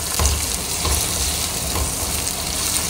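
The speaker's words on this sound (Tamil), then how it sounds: "ஒரு பெரிய வெங்காயம் பொடியாக நறுக்கி வச்சுருக்கேன், அதை சேர்த்துக்கிட்டேன். அதை நம்ம நல்லா வதக்கிக்கலாம்." A large finely chopped onion sautés in a pan, giving a steady close sizzle and crackle with occasional stirring scrapes and soft low bumps throughout.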